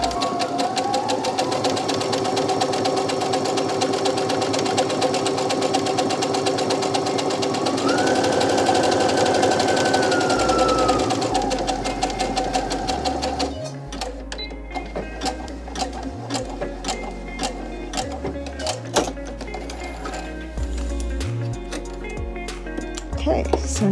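A sewing machine stitches binding along the edge of a fabric face mask, running in a steady continuous whir for about thirteen seconds before stopping, followed by soft clinks and handling sounds.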